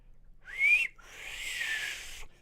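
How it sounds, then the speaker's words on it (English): A person whistles two breathy notes, a short rising one and then a longer, wavering held tone, fairly soft and alone. "Hard to whistle when you ain't got no lips, but I do the best I can."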